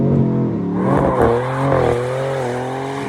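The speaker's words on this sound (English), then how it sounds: "Foot on the brake, holding okay, releasing the brake, throttle. Here comes the smoke." A 2026 Dodge Charger Scat Pack doing a burnout in rear-drive mode with line lock, its engine loud and close as it rises and wavers in pitch over about three seconds.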